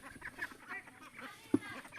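A flock of 57-day-old farm ducks gives soft, scattered quacking calls close by, a few short honks over a low background murmur.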